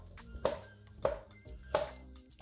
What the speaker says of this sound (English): You just chop it all up,